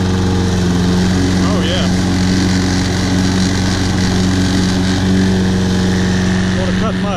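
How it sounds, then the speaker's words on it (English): A Toro Personal Pace Recycler lawn mower engine runs steadily and loudly up close, with a slight vibration from an unbalanced blade, while someone speaks briefly over it. "Boy, that runs great. Like a brand new lawnmower."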